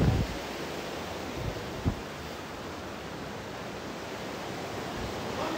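Waterfall at Mila Bahari in Logar, Afghanistan, heard as a constant broad roar of rushing water mixed with wind, a soft thump near the start and no voices.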